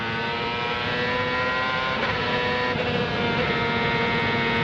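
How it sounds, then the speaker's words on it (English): A 2001 CART race car engine screams at high revs, captured onboard while accelerating out of the last corner, a loud, dense, continuous roar with slight pitch shifts and no talk. "Coming off the last corner, let's listen to the engine now."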